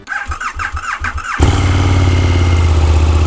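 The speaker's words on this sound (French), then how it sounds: "Je vais vous démarrer la moto pour que vous voyez un petit peu ce que ça donne." A KTM Super Duke 1290 twin-cylinder motorcycle engine with an aftermarket exhaust cranks with a few starter whirs, then catches and settles into a loud, steady, throbbing idle close by.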